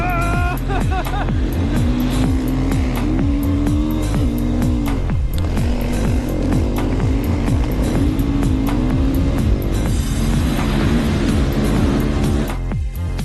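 A KTM 500 EXC dirt bike, rated at 63 horsepower and 106 kilos, rides hard with a loud, continuous engine note that rises and falls as the rider works the throttle through the gears, close and dominant throughout.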